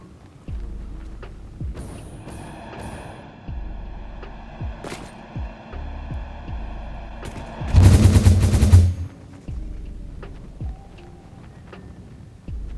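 A hyper cannon launch in the video game Satisfactory bursts out as a loud, dense roar lasting about a second, set among scattered sharp mechanical clicks and thuds.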